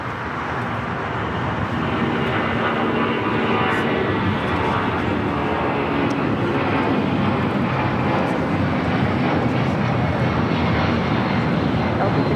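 Delta Airbus A350 jet at LAX roaring steadily and loudly as a broad, continuous engine rush that holds for the whole stretch, with faint radio-style voices in the background.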